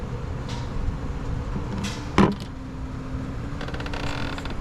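A bolt drops during removal of a part from a Buick 2.0 engine being repaired for an oil leak, landing as one sharp metallic clank amid faint garage background noise.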